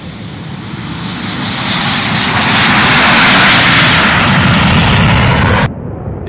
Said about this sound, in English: These were then followed by Australian pilots flying EA-18G Growlers.